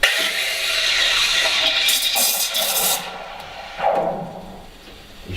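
Espresso machine steam wand pulled too far in milk for latte art, so it gargles: a rough, bubbling hiss with uneven surges and a sudden sputter near the end, close and without speech.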